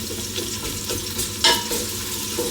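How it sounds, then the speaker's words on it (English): Diced onion frying in hot oil in a pan, a continuous crackling sizzle with one sharper scrape of a utensil near the middle. "Once your oil's heated, add your onion into the pan."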